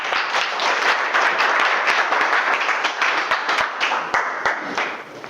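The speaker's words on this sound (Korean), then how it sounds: "뜨거운 박수만 주시죠." An audience at a university information session gives a warm round of applause, dense crisp clapping with a few sharp individual claps, fading slightly toward the end.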